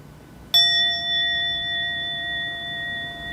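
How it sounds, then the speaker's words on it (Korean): A single bell is struck once and rings on with a clear, sustained metallic tone that decays slowly over a few seconds, heard alone against faint room noise. "종소리가 낭낭하게 일어납니다."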